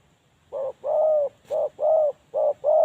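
A spotted dove coos nearby in a repeated rhythmic phrase of soft, hollow notes, six pulses with brief gaps, fairly close and clear.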